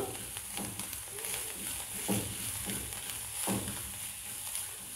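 Aloo paratha frying in a pan over low flame, giving a steady, soft sizzle with a few louder crackling pops, heard close and alone.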